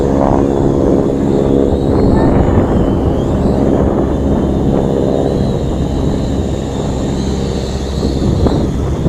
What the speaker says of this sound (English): Got an airplane coming by because they're spraying the fields.